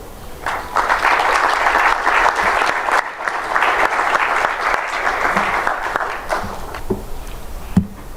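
Church congregation applauding and cheering loudly at a Congolese revival church gathering, a sustained dense wave of clapping with crowd noise that thins toward the end, punctuated by a few sharper claps.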